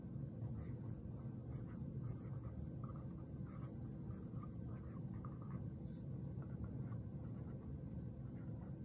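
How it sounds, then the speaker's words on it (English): A Pelikan M205 Duo highlighter fountain pen with a big, wet nib writing quickly on paper, a steady faint scratching close up over a low room hum, with no talking. "even with my quick writing, it really performs well."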